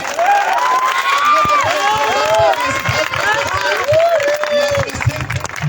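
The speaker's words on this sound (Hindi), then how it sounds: "जो बैटिंग इनकी अच्छी लगी हो तो एक बार जोरदार ताली" Outdoor crowd at a local cricket final cheering and clapping continuously, loud and sustained, with shouting voices rising over the applause throughout.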